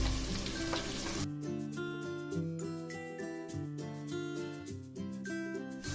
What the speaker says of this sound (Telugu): ఈ ఉల్లిపాయ ముక్కలు మంచి కలర్ వచ్చే వరకు వేయించుకుందాం